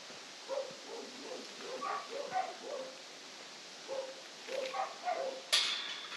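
Indoor dogs barking and yipping in repeated short bursts from a moderate distance, with a brief sharp noise near the end.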